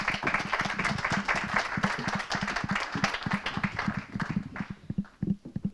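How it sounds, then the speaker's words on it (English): Room of attendees at a startup and venture capital event clapping for a guest walking up from the back, dense and steady at first, thinning into scattered individual claps near the end. "We'll give him a round of applause"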